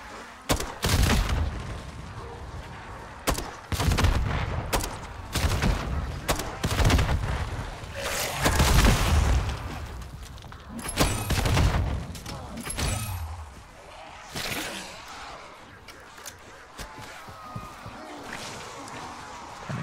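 Repeated booming grenade launcher blasts and gunfire in Modern Warfare Zombies, loud and frequent over about twenty seconds, with heavy low-end thumps mixed among players talking.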